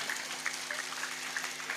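Scattered applause from a small religious gathering at a village talk, a faint steady patter of clapping with a few sharper claps standing out, fairly distant and modest in volume.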